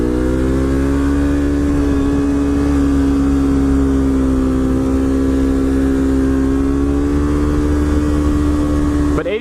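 A Yamaha R3 motorcycle engine droning steadily at high revs while riding, loud and close with constant wind rush, a slight pitch rise toward the end.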